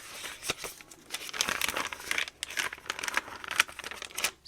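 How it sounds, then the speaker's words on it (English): Crinkly journal paper rustles and crackles close by in uneven bursts, with sharp crisp snaps scattered through the handling. "I just love the sound of the crinkle paper."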